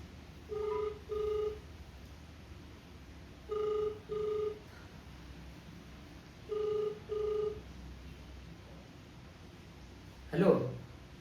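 Ringback on a phone call, heard as three pairs of double-burst ring tones separated by pauses, fairly clear over quiet background noise, ending with a brief noisy rustle.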